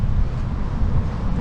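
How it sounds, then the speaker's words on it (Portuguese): Strong wind buffeting an outdoor microphone, a steady loud low rumble that roars without a break throughout. "Cara, mas tá ventando bem hoje aqui"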